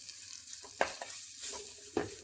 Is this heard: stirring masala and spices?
yes